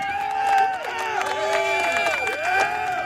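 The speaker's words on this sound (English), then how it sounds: "And that crowd goes wild." A crowd-cheering sound effect played for a birthday on a morning talk show, loud whooping and cheering with swooping, wavering voices over a bed of crowd noise, rising and falling in several surges.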